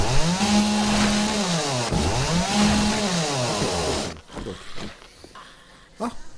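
Chainsaw in the survival video game 7 Days to Die, a steady loud revving drone with two rising-and-falling pitch sweeps, then cutting off into scattered short knocks and impacts.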